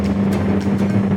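MG TC classic car engine pulling steadily on a test drive, a continuous low droning hum with a steady tone, close and loud, with no voices.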